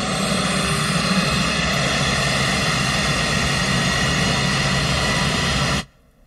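Air Force One, a large jet, departs at night with a loud, continuous roaring engine blast that stays steady for nearly six seconds and then cuts off abruptly to near silence.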